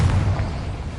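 Confringo blasting spell exploding in Hogwarts Legacy, a single short, heavy boom with a deep low rumble that decays over about a second.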